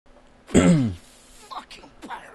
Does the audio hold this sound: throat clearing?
yes